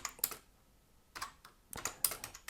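Close, quiet keystrokes on a computer keyboard as a short word is typed, coming in a few small clusters of clicks separated by brief pauses.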